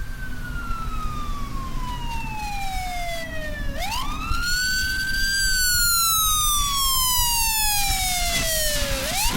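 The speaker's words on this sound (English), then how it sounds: "Sirens blare." An ambulance or fire truck siren passes by, its wailing tone sweeping down, jumping back up, then gliding lower again as the vehicle goes past, loud and close over road rumble, with no voices.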